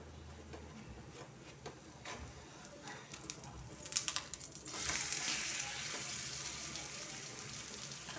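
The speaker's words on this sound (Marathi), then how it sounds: "वरून परत थोडं तेल सोडायचं आहे आणि ह्याला परतवायचं आहे" A tomato omelette frying in oil in a pan over the stove, a soft, close sizzle with light scraping and a few clicks, swelling into a louder steady hiss as more oil is added, no talking.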